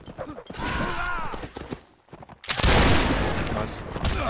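Napoleonic reenactors of the 32nd Regiment of Foot fire a loud, ragged musket volley, a burst of overlapping cracks and booms that swells and lingers, with shouting voices heard before it.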